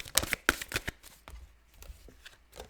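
A tarot deck is shuffled by hand in a quiet room, giving a run of crisp riffling snaps and soft card slaps that thin out into lighter taps.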